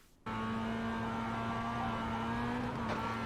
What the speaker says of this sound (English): we're going to absolutely floor it in 4th gear